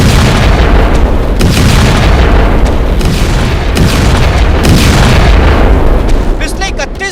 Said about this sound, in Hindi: पिछले 31 दिनों में मिसाइल अटैक के ऐसे ऐसे खौफनाक मंजर कैमरे में कैद हुए